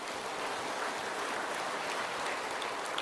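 A church congregation applauding after a sermon remark, a dense, steady wash of many hands clapping throughout, fairly distant and even.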